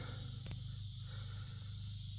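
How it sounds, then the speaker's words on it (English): Crickets chirp on a cool summer evening at a ranch, a continuous high, steady trill heard faintly, with a low constant hum beneath and no talking. "nice summer evening, cools off a little bit, crickets are chirping"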